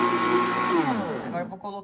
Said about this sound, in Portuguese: Achei o liquidificador bem forte e potente, ó.